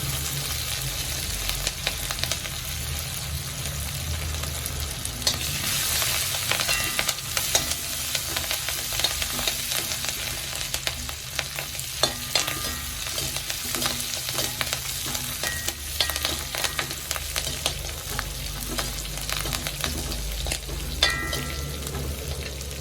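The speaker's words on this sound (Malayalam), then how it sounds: "ചതച്ച് വെച്ച വെളുത്തുള്ളി ഇട്ട് കൊടുക്കാം പച്ചമുളക് ഇട്ട് കൊടുക്കാം" Crushed garlic and green chillies fry in hot oil in a pan, a steady close sizzle with occasional stirring scrapes, continuing without any talk.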